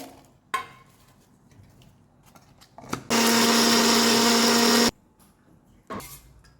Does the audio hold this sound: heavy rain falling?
no